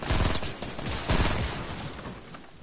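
Rapid video-game gunfire rattles through the whole stretch, a dense loud burst of shots with a second heavy volley midway, close and unbroken by speech.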